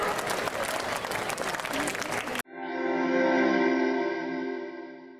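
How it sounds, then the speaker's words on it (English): A school quiz audience claps loudly and steadily for a couple of seconds, then the applause cuts off and a sustained synthesized musical tone swells and fades. "a big round of applause for everyone"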